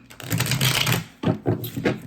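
Tarot deck cut by hand: a short ruffle of card riffling and sliding, then three quick distinct slaps as the piles are set down.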